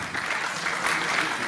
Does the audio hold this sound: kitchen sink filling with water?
no